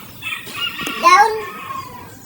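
Chickens in a backyard coop give a short burst of clucking and crowing-like calls, fairly close and moderately loud, with a louder squawk near the middle.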